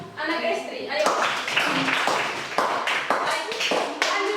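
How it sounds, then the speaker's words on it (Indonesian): A classroom group claps with steady, brisk applause lasting several seconds, and a voice is heard talking alongside it. "Tepuk tangan untuk anak istri."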